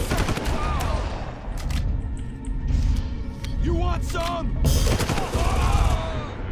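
Bursts of G36 assault rifle fire in the shooter game Far Cry, rapid loud volleys with booming impacts, plus in-game electronic tones and a voice speaking over the shooting.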